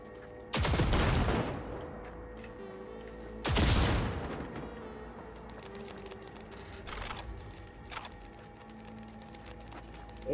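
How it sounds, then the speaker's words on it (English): Gunfire and explosions in the video game Cyberpunk 2077: two sharp, loud bursts a few seconds apart, followed by quieter scattered shots and rattling game sounds. "Kind of got smattered with that explosion"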